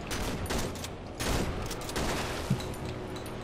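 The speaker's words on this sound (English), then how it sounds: "shoot it twice, I'll shoot it four times" Gunfire in the Cry of Fear video game, a dense series of close, loud shots rolling through a few seconds with little pause.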